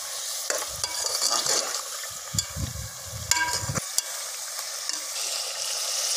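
Masala with garlic-ginger paste is fried for aloo gosht, a steady sizzle broken by several bursts of scraping as a spoon stirs the pan, all close up with no talking.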